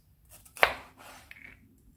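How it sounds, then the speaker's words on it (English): A knife cuts a deseeded pepper into thin strips for chicken fajitas. One sharp chop lands on the board, followed by a softer slicing scrape, close and clear with no talking. "Take out the middle bit and the seeds and just cut it into these thin strips."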